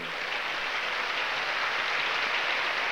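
Audience at the 1988 Miss Universe pageant in Taipei applauding the return of Miss Universe 1986, a steady, dense wash of clapping from a large crowd that holds at an even loudness throughout.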